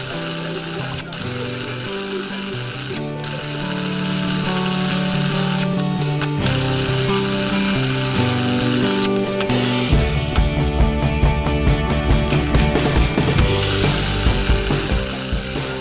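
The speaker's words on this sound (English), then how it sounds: "this is a mini chopper. This will just shred it into little bits" A mini chopper whirs and rattles as it shreds coconut into small bits, a steady mechanical grinding that runs alone and grows louder and choppier toward the end.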